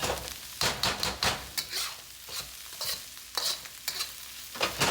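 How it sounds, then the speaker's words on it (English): Fried rice being stir-fried in a wok over a high-heat gas burner, with repeated scraping and tossing strokes over a steady close sizzle. "while you're stir frying over high heat"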